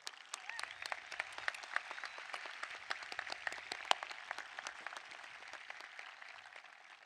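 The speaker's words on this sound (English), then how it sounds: "Let's give our teachers, counselors, and staff an applause they deserve" Graduation ceremony audience applauding teachers, counselors and staff: scattered, distinct individual claps crackle steadily across a large room, sounding somewhat distant and light rather than thunderous.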